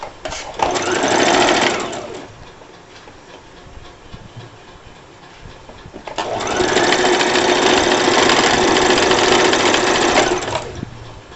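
A sewing machine runs stitching salwar fabric in two loud, steady bursts, the first about a second and a half, then a quieter pause with faint handling before a longer run of about five seconds.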